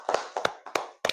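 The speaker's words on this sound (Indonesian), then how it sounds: "Iya, tepuk tangan dulu." A class claps in unison, four short, evenly spaced bursts of hand claps, close and crisp, with no talk between them.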